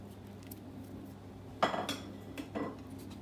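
Utensils stirring salmon, brown rice and chopped mint in a dish: a few faint metallic clinks and scrapes against a quiet kitchen background, with no talking.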